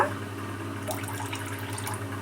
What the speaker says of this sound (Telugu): ఇప్పుడు ఇందులోకి వాటర్ వేసి ఎంచక కలిపేసుకోవాలి